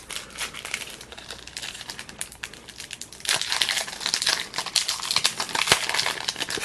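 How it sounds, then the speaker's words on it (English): A plastic goodie bag from a Zenon digivice unboxing is opened and rummaged through, giving close, continuous crinkling and crumpling that grows louder and busier partway through. "let's look at what the Zenon goodie bag came with"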